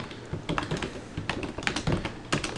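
Someone types on a computer keyboard while writing Ruby code, a close run of irregular key clicks in quick bursts with short pauses and no speech.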